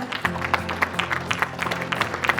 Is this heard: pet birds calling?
no